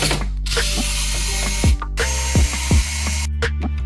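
A ratchet screwdriver removing screws from the metal covers of a Lenovo ThinkCentre all-in-one computer, loud and close, with bursts of rapid clicking ratchet action and a few sharper clunks.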